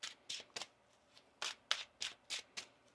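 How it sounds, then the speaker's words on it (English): Tarot cards being shuffled by hand, heard as about eight quick crisp riffling bursts in an irregular rhythm, close and fairly quiet, with no talking. "One more shuffle here."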